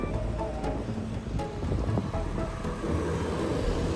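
Wind gusts across the microphone in a light breeze on a walk through old Deira, Dubai, a steady rushing buffet with a few faint clicks and bumps in the background.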